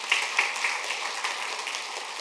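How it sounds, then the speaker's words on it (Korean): A congregation at a Korean church Christmas union service applauds together, a fairly soft, even patter of many hands, with a few sharper claps near the start and the clapping sustained throughout. "우리 박수로 한번 하나님께 영광을 돌립시다."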